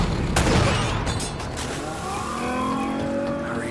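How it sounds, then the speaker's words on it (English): Pirate gunfire in the video game Uncharted: Drake's Fortune, sharp shots and rattling bursts mixed with game action and engine-like rumble, fairly loud and continuous throughout. "Yeah, that's why they're shooting at me"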